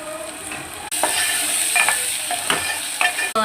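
Ginger paste frying with onions in a pan gives a steady, close sizzle that surges after a short drop, with a few scraping stirs standing out over the crackle.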